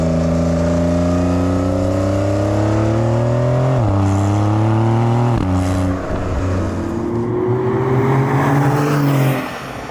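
A 2025 Porsche 911 Carrera with sport exhaust, its engine note loud and close, revving and climbing through rising pitch with brief dips at gear changes, sustained throughout with no talking.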